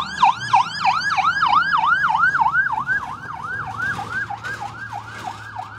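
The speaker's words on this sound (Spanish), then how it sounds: "Ya escucha también la sirena de los bomberos" A loud wailing fire truck siren sweeps up and down rapidly and repeatedly, close by, with a low engine rumble beneath it, arriving at a bus fire on a highway.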